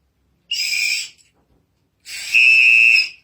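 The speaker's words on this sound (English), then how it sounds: "I came up with this here, the samba whistle." A samba whistle is blown twice, loud and close: a short shrill trill first, then after a pause a longer piercing blast with a steady high pitch.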